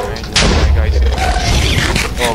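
Gunfire, heard as a loud close boom that rings out, followed by a noisy, echoing tail, mixed with indistinct voices.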